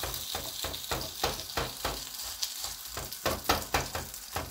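Msemen, a stuffed flatbread filled with minced chicken, frying in a hot pan with a steady close sizzle and a few soft bumps from handling, with no speech.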